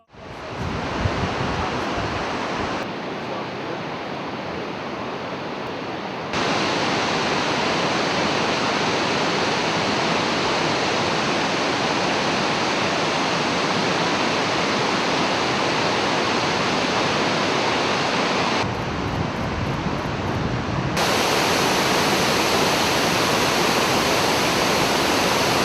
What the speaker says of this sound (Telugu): ఈ ప్రకృతి అద్భుతమే కైటర్ జలపాతం.